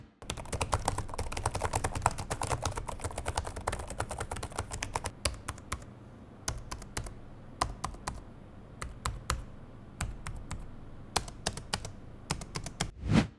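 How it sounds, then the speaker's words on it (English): Rapid keystrokes clatter on an HP Omen 16 laptop keyboard, a busy stream of light clicks with brief pauses, close and clear with no voices. "So here's a quick sound test for your reference."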